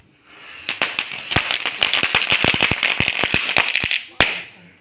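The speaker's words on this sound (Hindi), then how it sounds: "तो सबसे पहले पटाखे फोड़ते हैं।" A string of firecrackers bursts at a family celebration following a birth: a rapid, loud, close volley of sharp cracks lasting about four seconds, ending with one last separate bang.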